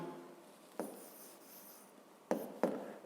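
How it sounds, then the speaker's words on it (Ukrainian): Handwriting in an exercise book during a seventh-grade physics problem, with soft pen scratching against paper and three sharper taps or strokes, close and quiet. "Записуємо тоді, отже, ці тіла пишемо."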